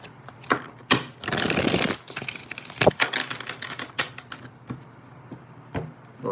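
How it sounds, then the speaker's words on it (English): A deck of cards shuffled for a tarot reading gives a brief riffling burst followed by scattered taps and light slaps of cards, up close. "2 more shuffles"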